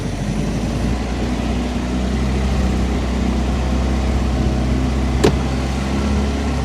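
A 1926 vintage car engine while driving downhill under engine braking: a steady low rumbling drone with mechanical rattle, constant and fairly loud, with a brief sharp click partway through.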